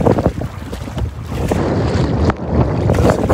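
Strong wind gusts buffet a kayak on Lake Athabasca, a loud, steady roar of wind noise over the microphone mixed with choppy waves and water splashing close by.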